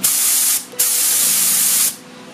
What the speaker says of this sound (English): I got the gun set up to where it shoots consistently 30 PSI.